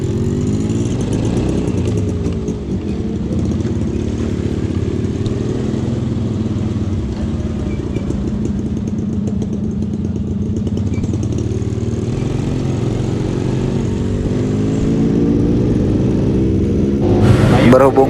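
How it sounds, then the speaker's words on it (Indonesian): A Suzuki Bravo motorcycle engine runs while riding behind a two-stroke bike, giving a loud, steady mid-pitched drone with rising and falling revs and wind buffeting, and ends with a brief harsh burst. "gas tipis-tipis bersama Suzuki Bravo"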